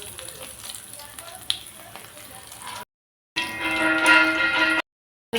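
Batter-coated gondhoraj chicken sizzles in hot oil with a steady broadband crackle that swells louder after a brief gap, then cuts out again.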